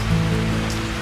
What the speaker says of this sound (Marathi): थोड्याच वेळात जोरदार पावसाचं आगमन झालंय.